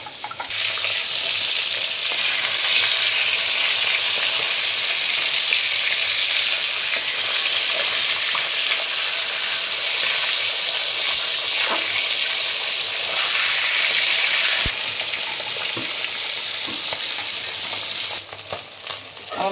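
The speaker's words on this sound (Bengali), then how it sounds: "আমার মাছ ভাজাগুলো হয়ে গেছে, আমি সব তুলে নিচ্ছি এক এক করে।" Fish fries in hot oil in a kitchen, a dense, steady sizzle and crackle running continuously and loud, with occasional clinks of utensils near the end.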